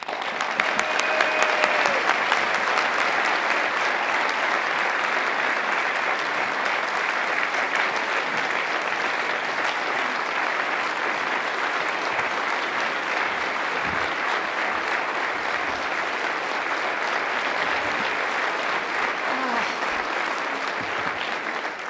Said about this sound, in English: give a big rounding round of applause, your Irving Mayor, the Honorable Beth Van Dyne